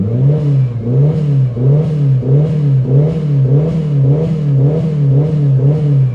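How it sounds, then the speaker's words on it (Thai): A Mitsubishi Lancer Evolution 7 engine revving in loud, rhythmic repeated blips, about eight even pulses rising and falling close by with no talk. "ฟังเสียงเบิ้ลนะ"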